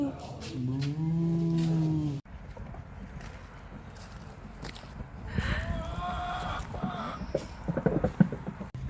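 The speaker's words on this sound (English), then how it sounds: "Is that a cow? Wow. Hi, cow." A cow in Nova Scotia, Canada lets out a long, low moo up close, followed by outdoor rustling and footsteps, with a second, fainter lowing call later.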